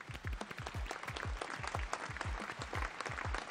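Applause for a ukulele interest group at a community Christmas and year-end celebration, a steady wash of clapping from a modest crowd with low bumps underneath, fairly quiet throughout.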